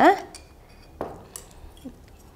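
A clean bowl for a beauty face pack is picked up and set down, giving a few close, brief ceramic knocks and clinks spaced across a short moment with no talking.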